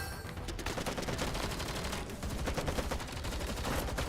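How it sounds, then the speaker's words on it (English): Sustained gunfire in the Girls' Frontline video game, rifle bursts in a night battle on a mountain road: rapid, dense volleys of shots crackling continuously, loud and close, with a brief lull before firing resumes. "Intense gunfire tears through the silent night."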